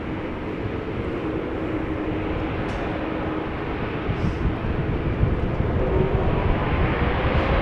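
A four-year-old KLM Boeing 787-10 Dreamliner, registration PH-BKF, flight 515 to Zanzibar, at Amsterdam Schiphol gives off a continuous, moderately loud jet rumble that holds steady and swells a little in the later seconds.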